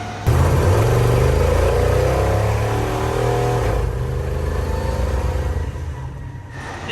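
A 1975 Toyota Land Cruiser FJ40 with a fuel-injected inline six, swapped in for more power than the factory 2F, revs hard and accelerates away with a loud, continuous rising engine roar that eases slightly near the end.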